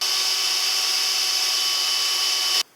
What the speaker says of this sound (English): drill some pilot holes and screw it in